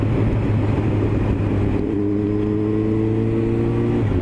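A Honda Fireblade 954 motorcycle cruises in sixth gear at about 40 mph and 2,500 rpm, giving a loud, steady engine drone with wind rush and no talking.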